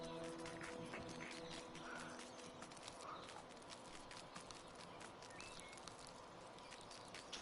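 A ridden horse clip-clops along in a video game, its hooves striking in a quick, steady rhythm that stays fairly close and even across the whole stretch, with no other prominent sounds.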